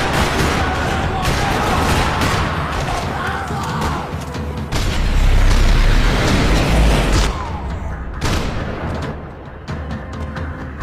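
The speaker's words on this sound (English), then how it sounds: "Another parking lot rattling with gunfire." Rattling gunfire and booming shots fill a parking lot shootout in the video game Max Payne 3, dense overlapping bursts and heavy impacts, loud and close, thinning briefly toward the end.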